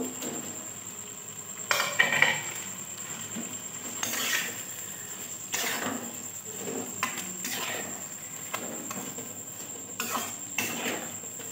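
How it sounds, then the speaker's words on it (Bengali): Pointed gourd (potol) fries in spiced oil in a pan with a low, steady sizzle, broken by repeated scrapes and clinks of a spatula stirring, and no voices. "এবার পটলগুলো দিয়ে ভালো করে কষিয়ে নেব"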